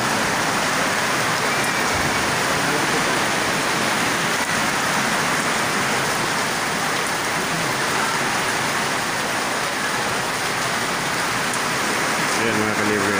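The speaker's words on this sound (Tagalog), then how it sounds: "umauna kami kasi lumakas ang ulan eh" Heavy rain pours steadily and loudly at a farm in San Pablo, a dense unbroken hiss of drops on surfaces throughout, with faint voices underneath.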